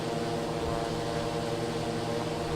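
A Eurofly Twinfox light aircraft's engine in Microsoft Flight Simulator drones steadily and loudly throughout, a dense, continuous hum with a rough, buzzing texture and no pauses.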